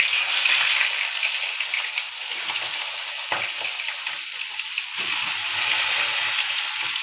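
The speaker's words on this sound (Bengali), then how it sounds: "তেলটা গরম হয়ে গেছে, এবার মাছ দিয়ে দেবো কড়াই।" Fish frying in hot oil in a wok (kadai), a loud continuous crackling sizzle that holds steady up close, with brief shifts as the pieces settle.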